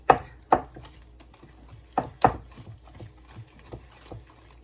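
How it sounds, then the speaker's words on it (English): Eggs being hand-whisked into a sugar, honey and butter mixture for almond banana bread, with a few sharp, close clacks of the whisk against the bowl and softer, irregular strokes between them. "it doesn't take that long to do it by hand with the whisk"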